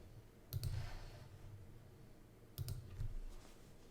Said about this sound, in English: I'm going to hit the space bar on my keyboard